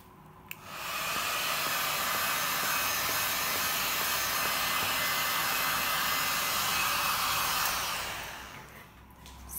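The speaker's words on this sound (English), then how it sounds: "Now I'm gonna use my heat gun to pop all these cells." A cheap on-off Lidl heat gun blows over acrylic pour paint to pop cells, a steady, close rushing fan-and-air roar that starts abruptly, holds evenly for about seven seconds, then winds down.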